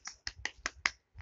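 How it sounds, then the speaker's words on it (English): Six sharp finger snaps in a pre-nursery class, crisp and close, spaced in a steady, slightly uneven rhythm with brief silences between them. "Now, everyone, click finger with your mom."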